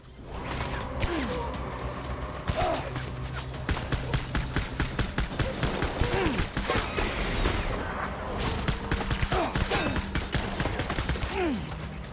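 Gunfire in the video game Death Stranding rattles in rapid bursts of sharp cracks, with mechanical creaks and occasional booms mixed in over a busy, sustained battle.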